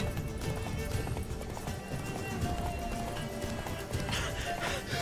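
Roach the horse gallops in Witcher 3: Blood and Wine, rapid clip-clopping hooves in a steady running rhythm with a brief whinny, layered over game music and ambience.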